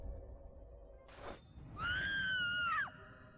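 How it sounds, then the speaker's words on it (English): A distant, high-pitched scream echoes down a corridor in the Arkham Horror video game, lasting about a second and falling off at the end, preceded by a brief crash against a low rumbling background. "That scream is coming from down the corridor"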